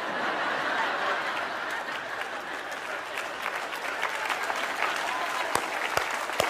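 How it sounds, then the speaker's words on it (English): Church congregation applause at a sermon: warm, sustained clapping from a large audience with some scattered laughter, steady and moderately loud, rising slightly toward the end. "Yeah, that's worth clapping about."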